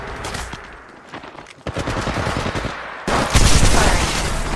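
Close, loud gunfire from a video game: automatic bursts and single shots crackle in quick succession, building to a harsher, louder stretch of sustained fire near the end.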